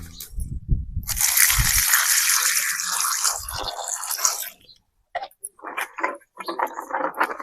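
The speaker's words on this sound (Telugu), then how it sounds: "కొన్ని నీళ్ళు పోసుకొని నీట్గా అయితే కడుక్కుందాము" Raw tamarinds washed by hand in water, with loud pouring and gushing, then a pause, then softer sloshing and dripping as the fruit is rubbed clean.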